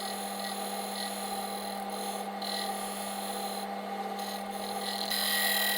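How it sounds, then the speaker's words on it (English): Wood turning on a lathe, a tool shaping the inside of a wooden saucer set with resin, giving a continuous close scraping rasp over a steady motor hum. "The side being turned is the inside of the saucer."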